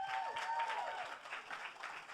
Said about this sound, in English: You should save that applause